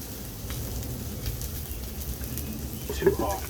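Hot oil sizzles and crackles in a pan on a small Korean one-burner stove, a steady close frying hiss with a few sharper pops toward the end.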